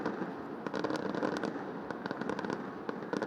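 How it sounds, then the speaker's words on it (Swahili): Fireworks burst over Nairobi during New Year celebrations, a dense run of crackling pops and sharp bangs heard from a distance over a continuous rumbling background, fairly faint overall. "Fataki zimehanikiza anga ya jiji kuu la Kenya."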